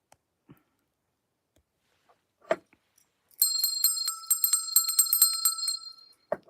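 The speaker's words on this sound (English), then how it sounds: "I love ringing that bell." A bell rings rapidly and repeatedly for about three seconds, bright and metallic, after a few faint scattered clicks and taps.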